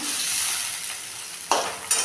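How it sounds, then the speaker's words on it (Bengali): Onions fry in hot oil with a steady, close sizzle, punctuated by two sharp bursts as the pan is stirred. "তো পেঁয়াজটা একটু ভাজা করে নিচ্ছি আমি"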